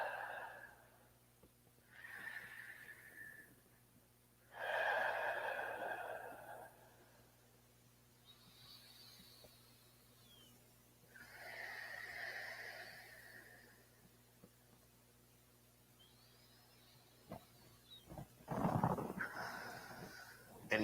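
Slow, deep breaths during a yoga forward fold come in separate airy inhales and exhales with pauses between them, close and quiet, sometimes rough and whistling at the end of a breath.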